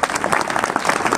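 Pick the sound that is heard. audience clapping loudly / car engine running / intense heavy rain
audience clapping loudly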